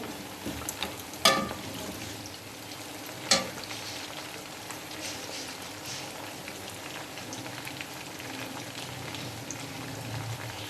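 Chicken pieces frying in a pan for Peshawari charsi karahi, with steady close sizzling throughout and two sharp pops or clinks early on.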